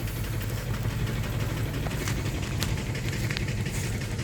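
A 2004 Dodge Durango with a 5.7 V8 that has overheating and leaking problems idles steadily, a low continuous rumble with a faint knocking texture and no talk over it.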